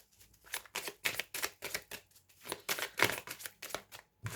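Oracle cards being shuffled for a card draw, a steady run of close, crisp riffling bursts repeating for several seconds with no talk.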